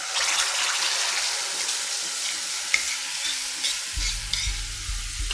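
Whisked dahi hits a hot pan of roasting cardamom, giving a steady bright sizzle with spoon stirring and scraping, a low rumble joining near the end; no voices.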